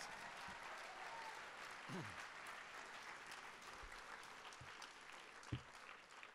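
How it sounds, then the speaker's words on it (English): Diners at an ACLU Southern California awards dinner applaud the union hotel staff who served the meal, a faint, distant, even wash of clapping with a few louder claps and murmuring voices beneath. "Please give them a round of applause."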